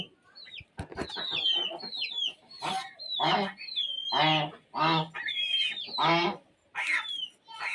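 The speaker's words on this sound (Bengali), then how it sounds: "এদিকে আমার রাজহাঁস ডাকতেছে" A domestic goose honks repeatedly near a home kitchen, loud nasal calls in short bursts with brief pauses, some cackling fowl sounds mixed in.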